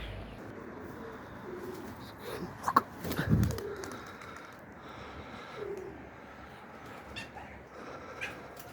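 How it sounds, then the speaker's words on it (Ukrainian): Pigeons coo softly outdoors amid light ambient noise, with a few louder bursts partway through and occasional chirps. "Да, ти голуби зараз."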